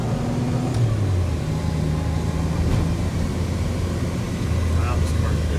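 DeLorean car driving around a block, heard from inside the cabin as a steady, droning engine hum with low rumbling road noise and faint rising whines, continuous and moderately loud throughout.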